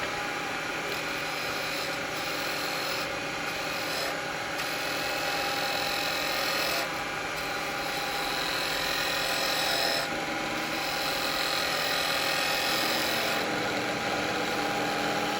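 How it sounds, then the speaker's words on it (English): A wood lathe spins a lidded box while a spindle gouge cuts it, giving a steady motor hum under a continuous rough scraping cut that swells and eases over time. "I'm going to come in with my spindle gouge again."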